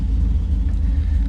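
Supercharged LSA V8 in a Pontiac G8 idling steadily, a deep continuous low rumble held close and even throughout with no voices.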